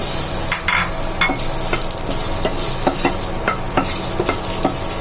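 Dried and green chilies fry in a hot pan, a loud steady sizzle broken by repeated spoon strokes and scrapes stirring them close by.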